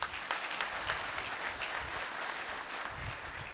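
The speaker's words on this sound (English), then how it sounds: "Please, let's give them a round of applause." An audience at a combined convocation ceremony claps steadily. The applause is dense and sustained from a crowd, holding an even level the whole time with no voices over it.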